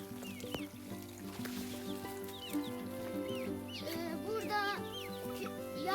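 Chickens cluck and chirp over a steady low hum, with scattered rising calls from several birds throughout; includes young chicks about one to two months old.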